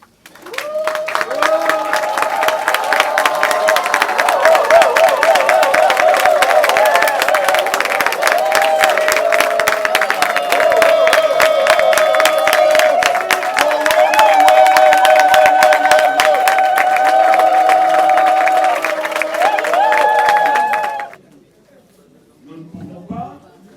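A standing audience of comedians and guests applauds and cheers in thanks to Maman Denise, a dense, steady wash of clapping running for about twenty seconds under sustained tonal voices or music, then cutting off abruptly.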